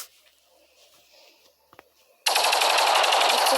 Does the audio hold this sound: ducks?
no